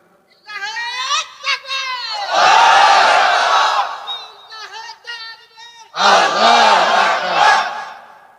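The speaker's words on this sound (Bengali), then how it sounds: "দেন স্লোগান মারেন দেখি" A crowd at a Muslim religious sermon shouts slogans in unison, loud bursts of massed voices answering a single voice, with a lone speaker's calls at the start and between the two big roars.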